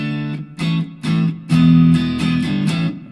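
Clean electric guitar tone played through a Fender Mustang amp: a few sustained strummed chords ringing out in short bursts, close and fairly loud, with no talking.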